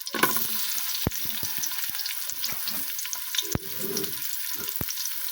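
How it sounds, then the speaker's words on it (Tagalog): Garlic sautéing in a cooking pan for pakbet: a steady close sizzle and crackle of frying, broken by several sharp metallic clacks of a utensil stirring against the pan. "Igigisa na natin siya."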